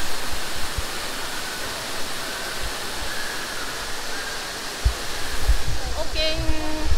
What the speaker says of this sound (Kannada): And water falls.